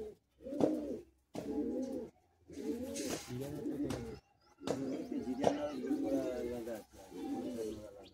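Tournament pigeons cooing in repeated soft throaty phrases, close by, with short pauses between bursts.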